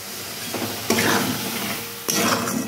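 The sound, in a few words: water added to sizzling spice paste in pan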